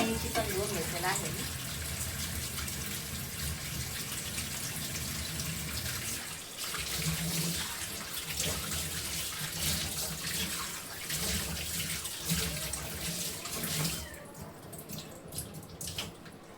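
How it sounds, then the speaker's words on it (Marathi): Tap water running while chicken is washed in a kitchen sink, a steady splashing stream with clatter and handling noises, breaking off briefly midway and tapering toward the end. "चार पाण्याने चिकन धुवून घेतलेलं आहे"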